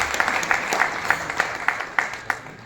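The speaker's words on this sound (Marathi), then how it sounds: "एकदा जोरदार टाळ्या." An indoor audience at a civic felicitation ceremony claps steadily, a dense, even round of applause with regular sharper claps punctuating it.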